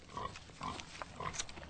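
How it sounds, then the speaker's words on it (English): A pig eats close by, with rhythmic, wet chomping and snuffling grunts repeating about every half second over a low rustling background. "there she is, chomping away, happy as a pig"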